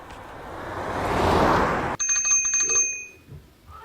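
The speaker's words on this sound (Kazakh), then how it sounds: "Велосипед," A rushing whoosh fades out, then a bicycle bell rings in a few bright, quick metallic dings, clear and close.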